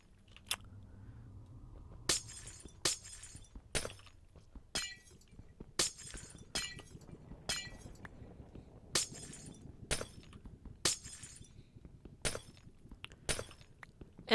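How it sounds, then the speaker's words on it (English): Glass blocks being broken one after another while mining in Minecraft, a series of crisp shattering clinks spaced about a second apart over a soft background, fairly quiet and with no talk. "I'm up here mining some glass because I put it all in the wrong place"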